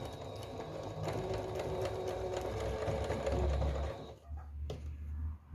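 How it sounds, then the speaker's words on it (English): A sewing machine stitching down quilt binding, a fast, even mechanical whirring chatter of the needle running close and steady for about four seconds before stopping, followed by brief quieter handling clicks. "Now you're going to start a 1/4 inch away from the edge there and sew down."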